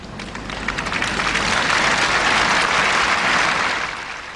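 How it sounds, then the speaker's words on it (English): Sympathetic crowd applause at a tennis match, a steady wash of many hands clapping that swells, holds for several seconds and then eases off slightly, with no voices over it. "earned the sympathetic applause of the crowd."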